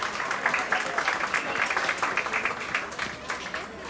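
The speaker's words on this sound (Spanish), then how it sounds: "Un aplauso para la quinceañera" Applause from a crowd celebrating a quinceañera in Columbus, Georgia, a steady wash of many hands clapping at moderate volume that fades slightly toward the end.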